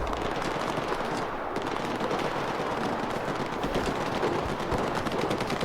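Continuous rapid gunfire in the video game STALKER 2: Heart of Chornobyl rattles steadily throughout, dense bursts blending into a constant crackling roar at moderate volume.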